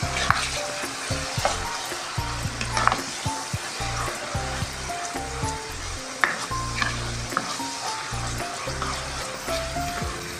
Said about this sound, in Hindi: अब 2 मिनट तक हम इसे भूनेंगे, लहसुन अदरक का कच्चापन निकल जाए।